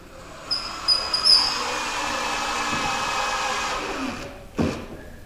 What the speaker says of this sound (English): using one of these pocket hole tools to put in the pocket holes